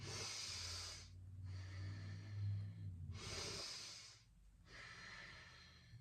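Deep breathing in and out through the nose during breathwork, with two forceful hissing inhales alternating with softer, rumbling exhales, close and steady with no talking.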